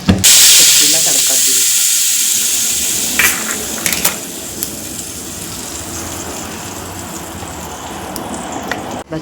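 Cumin and mustard seeds hit hot oil for a chutney tempering, bursting into a loud close sizzle that gradually settles into a steady frying hiss with a few spatula clinks.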